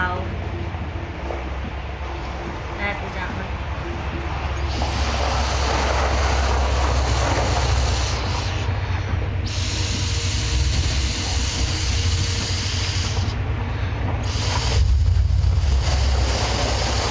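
Thinned pottery glaze, poured into a sprayer through a funnel, is sprayed onto a bowl: a steady low hum carries several long hissing bursts that start and stop.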